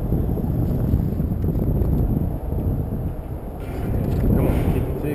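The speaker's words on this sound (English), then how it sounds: "we got a little wind" Steady wind rushing and buffeting a microphone on a fishing boat during a speckled trout outing, a constant loud roar that swells slightly toward the end, with no clear speech.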